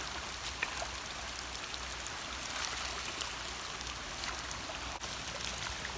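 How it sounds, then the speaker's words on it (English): Water running down a roadside ditch partly choked with blackberry vines, a steady close trickling and burbling flow with small splashes, continuous and alone without speech. "I just want to get the water flowing down the right side of the road."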